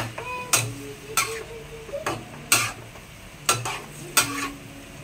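Pork steak being stirred in a pan with water, a spoon scraping and clinking against the pan in an irregular rhythm of about seven strokes over a faint sizzle.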